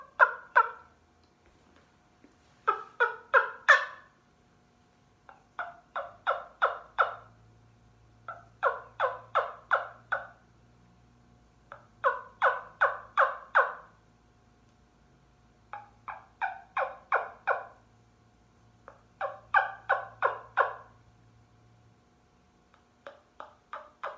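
Soft hen yelps made on a wingbone turkey call come in eight or so short bursts of several raspy notes each, evenly spaced and fairly close, with a faint low hum underneath.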